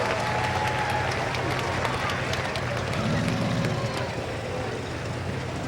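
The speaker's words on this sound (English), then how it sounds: "Big round of applause for driver number 3 tonight, Ryan Moore." Grandstand crowd at a nighttime rough truck race applauding a driver, a steady wash of clapping and crowd noise mixed with distant engine rumble, fairly faint throughout.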